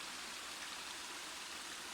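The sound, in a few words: small stream flowing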